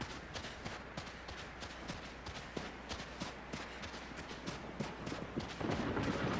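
Agro the horse's hooves in Shadow of the Colossus clopping steadily on a wide beach, a rhythmic run of soft thuds under a continuous ambient wash, growing slightly louder near the end.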